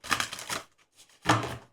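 Tarot and oracle cards get shuffled by hand, two brisk papery bursts of riffling separated by a short pause, close and clear with no talk over them.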